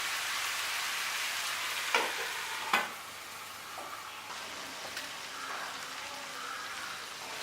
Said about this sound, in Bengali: আলু আর চিংড়ি মাছটা দিয়ে আমি আর একটু ভালো করে কষে নেব।